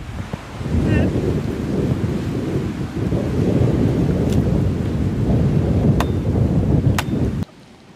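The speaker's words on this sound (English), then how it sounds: "Rain all come down." A rain and thunderstorm roars as a dense, steady rumble with gusty wind buffeting the microphone and a few sharp knocks, then drops abruptly near the end.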